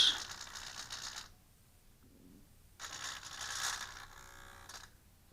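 Servo-driven flaps on a Freewing B-17 Flying Fortress model plane, two bursts of close mechanical whirring and ratcheting gear noise separated by a quiet gap.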